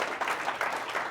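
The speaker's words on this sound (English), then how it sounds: "give you guys a round of applause" Brief burst of applause from a conference audience at a football betting industry event, a short, dense patter of many hands clapping at moderate loudness.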